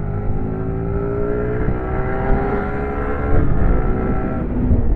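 A Yamaha R15 V3 sportbike accelerating in first gear, its engine note climbing in steady rising harmonics at close range, loud and continuous with no speech.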